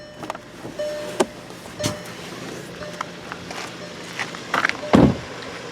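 The doors of a 2021 Volkswagen Passat S are shut with the windows down, giving several firm, solid thuds spaced a few seconds apart over a quiet background.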